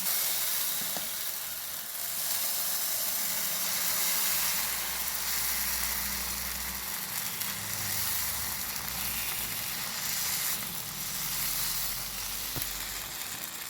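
Steady sizzling hiss of dosa batter spreading on a hot griddle, continuous and close, with no talking.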